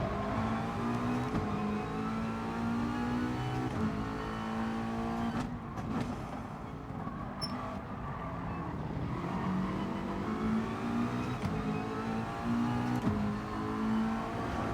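Car engine in Gran Turismo Sport racing down a straight, a steady loud drone with rising revs and gear shifts throughout, including one brief dip mid-run, no voices.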